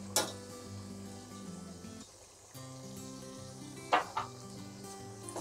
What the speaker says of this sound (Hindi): अब इसमें हम अपनी दही डालते हैं।